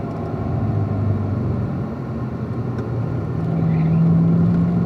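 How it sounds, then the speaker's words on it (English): A race car being driven on a track at a racing school, its engine droning steadily with a low, rising pitch as the throttle opens and the revs build toward the end, loud and continuous with no talk. "Now open up that throttle there, Edward."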